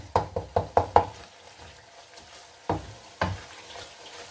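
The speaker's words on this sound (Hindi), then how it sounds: "चम्मच की मदद से इन्हें हम थोड़ा सा और कर लेंगे मैश अच्छे से।" A spoon knocks against a cooking pot while mashing tomatoes: five quick, evenly spaced clacks, a pause, then two more, over a faint soft bubbling.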